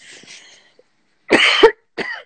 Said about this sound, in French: Est-ce que tu tousses?